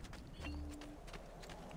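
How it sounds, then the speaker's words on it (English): Horse hooves clip-clopping at a steady trot in Assassin's Creed 2, a soft regular patter of hoofbeats spread across the moment, fairly close and moderate in level. "Ooh, you get to ride horses?"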